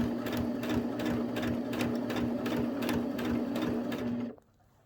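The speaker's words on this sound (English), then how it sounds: "Okay, so I'm just gonna sew this down." Sewing machine stitching down a mitered corner of fabric, a steady rapid needle rhythm running close and loud for about four seconds, then stopping abruptly.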